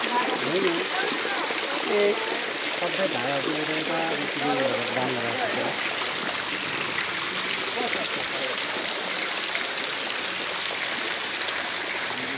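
Water pours steadily from 108 stone spouts at a temple, a continuous splashing rush that fills the scene, with a voice speaking briefly early on.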